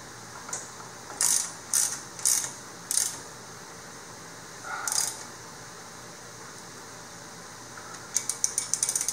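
Ratchet tightening a brake caliper bracket in a garage on a GRT modified race car: a few short bursts of clicks near the start, one more later, then a quick run of rapid clicks at the end, alone without talk.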